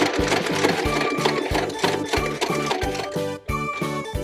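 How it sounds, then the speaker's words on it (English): A sewing machine runs a long straight seam along the finished edge of a hooded towel, giving a loud rhythmic chatter of stitches with regular beats and a brief pause near the end. "Stay close to the finished edge. And sew all the way across."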